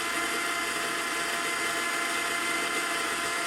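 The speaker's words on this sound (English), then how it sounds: "And that's the sound of the grinder." Breville Smart Grinder Pro coffee grinder running steadily, a faint, even mechanical whir with a hissing, buzzy grind that holds constant throughout without pauses.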